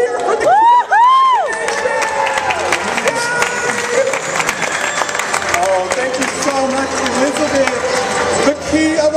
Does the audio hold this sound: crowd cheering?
yes